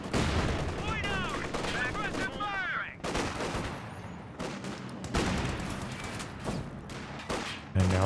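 An M1919 machine gun in the strategy game Company of Heroes 2 fires repeated bursts amid other battlefield gunfire and explosions, loud and continuous, with faint game voices in between.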